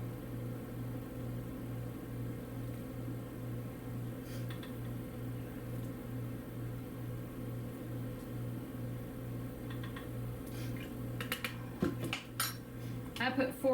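A spoon mixes grated horseradish in a bowl, with a few quick clinks and scrapes near the end over a steady low hum.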